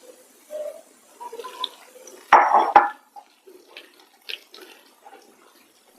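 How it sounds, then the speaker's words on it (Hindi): Jalebi batter being beaten by hand in a bowl, batter mixed with water to remove lumps: a burst of wet slapping and squelching mid-clip, with softer intermittent splashy stirring sounds before and after, close and fairly quiet. "इस तरह से हाथ से अच्छे से फेंट लेंगे जिससे कोई लम्स ना रहे।"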